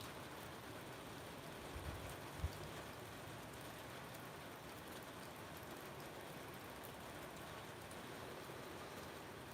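Steady rain falling outdoors, a soft continuous hiss of drops on surfaces that stays even and fairly faint throughout, with a brief low thump early on and no voices.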